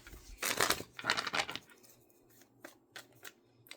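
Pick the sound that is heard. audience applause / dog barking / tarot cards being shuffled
tarot cards being shuffled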